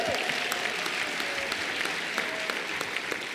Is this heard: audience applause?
yes